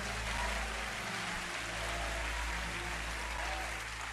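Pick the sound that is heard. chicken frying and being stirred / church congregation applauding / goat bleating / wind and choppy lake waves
church congregation applauding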